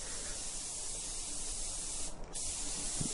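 A spray gun applies paint to a masked-up car, giving a steady, close hiss that runs unbroken from start to finish with a momentary dip partway through.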